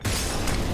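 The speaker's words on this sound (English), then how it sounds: "Throwing flashbang." A flashbang grenade goes off in a video game: a sudden loud burst that holds as a dense, harsh wash of noise for under a second.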